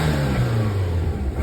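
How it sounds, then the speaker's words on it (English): A Daihatsu Mira's small engine revs close by, its pitch falling steadily as the revs drop back, with a steady whooshing hiss over a continuous, even drone. "Well, let's just give it a rev right away."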